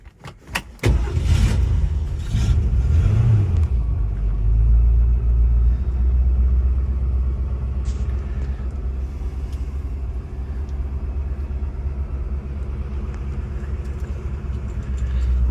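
A 1965 Ford Mustang V8 Fastback with a manual gearbox and rally pack starts with a short crank, then settles into a loud, deep, steady rumble at close range, with a faint click or two in the background.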